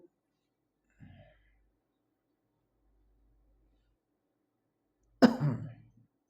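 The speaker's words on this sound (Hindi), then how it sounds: "थोड़ा खांसी ने बहुत परेशान कर दिया यार आज" A teacher in a quiet room clears his throat and then gives a single harsh cough, with a faint short throat sound first and the louder cough arriving near the end.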